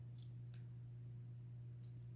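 Scissors trim loose thread ends next to a glued knot, giving three faint, quick snips spread over a couple of seconds against a low steady hum.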